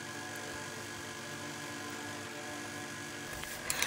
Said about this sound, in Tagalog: yung maingay na yan, electric fan, parang helicopter